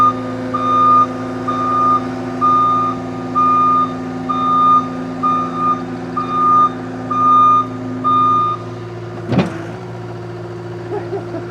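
A truck's reversing alarm beeps in a steady, evenly spaced series of about a dozen loud tones while the truck backs up, over a low idling engine hum, ending with a sharp knock.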